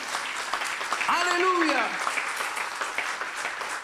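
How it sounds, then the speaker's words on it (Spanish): Church congregation applauding at a sermon: steady, moderately loud clapping from many people runs throughout, while a voice calls out over the middle of it. "Denle otro fuerte aplauso a Jesús"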